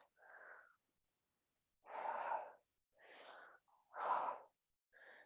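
Deep breathing during a workout, five slow, separate breaths close to the microphone, each a soft rush of air with quiet gaps between them.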